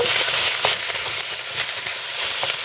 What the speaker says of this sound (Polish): wrzucam teraz tutaj sam boczek najpierw. Żeby ten boczek nam się najpierw ładnie wytopił